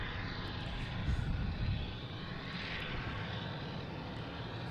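An Aer Lingus airliner's engines roar at Boston Logan Airport, a steady, distant, broadband rumble that swells slightly and then holds.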